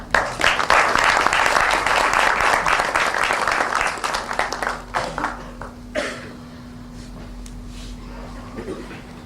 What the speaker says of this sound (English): Round of applause to all our panelists